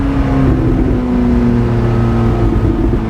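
A deep, raspy engine exhaust drones steadily and loudly, a low rumbling tone holding throughout.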